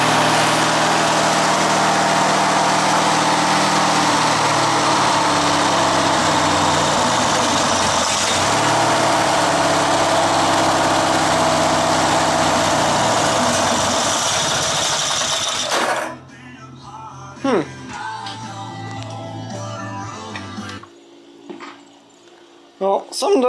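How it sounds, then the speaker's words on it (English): A Craftsman LTX1000 lawn tractor's Briggs opposed-twin engine runs rough, a loud, steady, uneven drone for most of the clip before it cuts off, leaving quieter clanks and rustles. "something definitely doesn't sound right with the motor"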